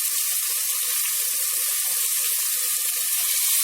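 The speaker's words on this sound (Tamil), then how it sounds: "இப்போ தக்காளி வதங்கட்டும்." Tomatoes cook with salt in a hot pan, giving a continuous loud sizzle with small pops and crackles throughout, and no voices.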